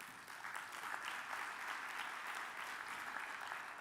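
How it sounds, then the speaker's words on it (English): Steady applause from a conference audience honoring outgoing mayors at a mayors' annual meeting plenary, a dense, even wash of many hands clapping at moderate volume throughout, with no talk over it. "give them a clap"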